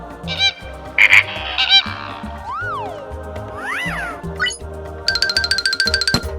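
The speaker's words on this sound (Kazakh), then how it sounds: "қоқиқаз" Flamingo calls: a run of loud, goose-like honks and nasal squawks, some rising and falling, ending in a rapid rattling burst, with no speech.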